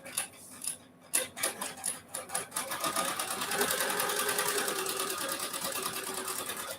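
A sewing machine stitches quilt pieces continuously, its fast steady mechanical whir running nearly unbroken after a few brief stops and starts at the beginning, close and clear with no talking.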